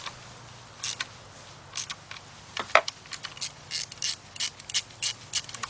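Ratchet clicking in repeated short bursts as head gasket bolts on a Nissan engine are snugged down, crisp and close with brief pauses between strokes, no voices.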